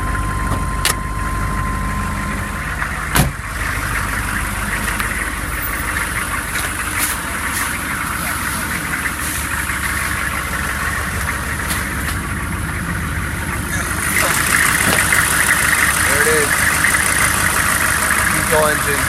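A 1996 Chevrolet Cheyenne K3500 pickup with a 6.5L diesel engine idles steadily in the cold with the hood open, a continuous close-up rumble with a few clicks and someone talking over it.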